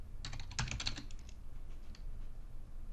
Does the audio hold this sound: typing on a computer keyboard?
yes